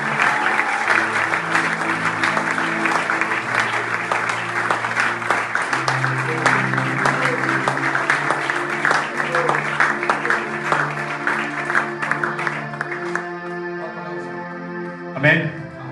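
A church congregation claps and applauds in praise for the Lord, dense continuous applause filling the room with music underneath, ending with a brief louder accent.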